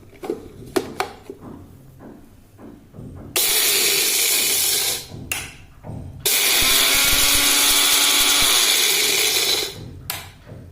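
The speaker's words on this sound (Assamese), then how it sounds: "এতিয়া মই মিক্সিৰ জাৰ এটাত ভৰাই মছলাখিনি গুড়ি" Mixer grinder jar grinding dry spices for an Assamese pickle: two loud, steady whirring bursts, one about two seconds and a longer one about four seconds, separated and surrounded by soft handling clatter.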